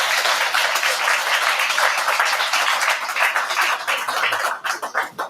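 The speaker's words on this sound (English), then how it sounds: "Let's give Alyssa a round of applause." Audience at a graduation ceremony applauding, a loud, dense burst of clapping that thins into scattered claps near the end.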